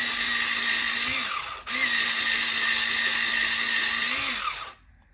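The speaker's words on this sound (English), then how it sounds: "And I use an electric sharpener." An electric pencil sharpener grinds a watercolor pencil in a steady, loud mechanical whine that runs about four seconds, dips briefly, then resumes before cutting off.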